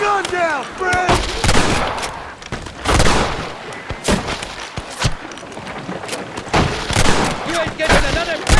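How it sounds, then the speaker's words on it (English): Gunfire in a Wild West shootout from the video game Red Dead Redemption: loud, irregular rifle and pistol shots cracking close by, with shouted voices and music between the blasts. "They're shooting down on us!"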